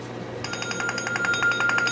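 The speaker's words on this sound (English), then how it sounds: "My phone's ringing like crazy." A mobile phone rings in a workshop while a slitting saw arbor is being keywayed, a steady repeating electronic trill of short pulses starting a half second in and continuing over low machine hum.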